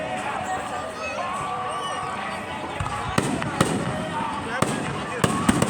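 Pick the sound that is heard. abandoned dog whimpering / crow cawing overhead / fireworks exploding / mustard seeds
fireworks exploding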